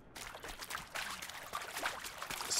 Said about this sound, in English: Splish, splash.